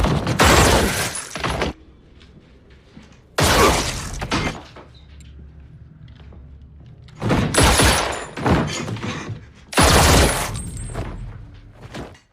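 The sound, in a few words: indiscriminate gunfire in a film scene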